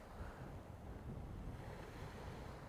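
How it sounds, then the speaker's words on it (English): Waves breaking and gusting wind on a stormy island beach in rain, a steady broad roar with heavy wind buffeting the microphone throughout, no voices. "it's just a stormy beach basically"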